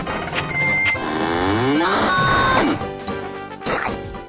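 A cow moos loudly in a video game, one long drawn-out bellow with a rising and falling pitch, set over a busy background of game sounds, followed by a short crash.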